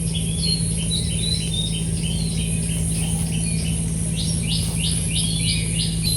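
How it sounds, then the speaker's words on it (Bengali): Several birds chirp and trill in repeated short bursts around a quiet village on an overcast morning, moderately near over a steady low background hum. "তাহলে এই যে ন্যাচারাল যে পাখির ডাক"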